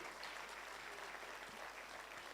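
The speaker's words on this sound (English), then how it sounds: "Let's give a big round of applause to Thorn Baraza and our panelists" Steady audience applause at a public lecture for the International Day of Democracy in Kenya, a dense wash of clapping filling the whole moment as panelists return to their seats.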